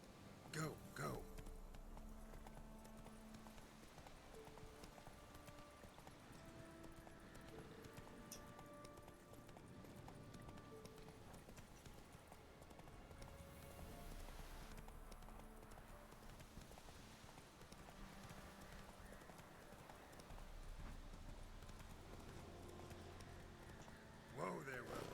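Roach the horse trots along in The Witcher 3, with steady rhythmic clip-clopping hooves over game music and background ambience, while a voice talks at times.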